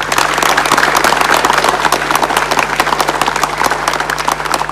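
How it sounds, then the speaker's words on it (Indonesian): A large audience claps loudly and continuously at a memorial gathering for Suharto, a dense, even roar of applause that carries on throughout. "Kita beri tepuk tangan yang meriah."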